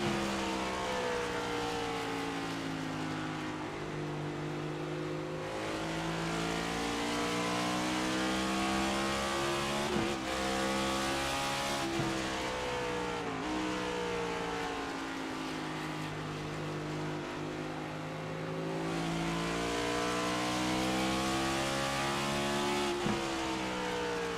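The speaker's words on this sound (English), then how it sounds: "How's about we take a lap on board with Michael Deitch, 15 laps in of 130." On-board sound from the number 57 race car during a 130-lap short-track race, its engine droning loud and steady, rising and falling in pitch through each corner and straight with brief shifts, close and continuous.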